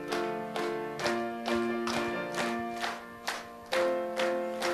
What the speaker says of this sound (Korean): 436장 1절만 박수 치면서 찬양하겠어요